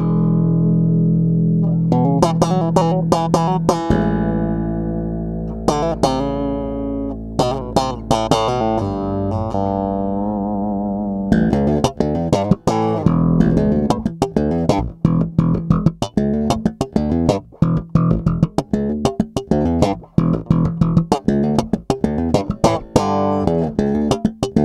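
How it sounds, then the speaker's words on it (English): An Alembic bass with the neck pickup blended with the mid-range bridge pickup, played loud and close: sustained notes and slides at first, then a busy stretch of rapid, percussive plucked and slapped notes, with no talking. "And I'm going to mix it with the mid-range sound on the bridge pickup,"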